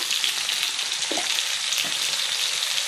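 Potato pieces sizzle steadily in hot oil while being stirred with salt and turmeric, a constant close frying hiss with a couple of soft spoon scrapes.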